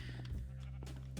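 Sheep bleats in the Minecraft video game, a short pair of wavering calls close up over a steady low game hum, alone with no talk.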